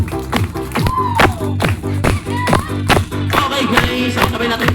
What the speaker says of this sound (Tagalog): Clap your hands, guys.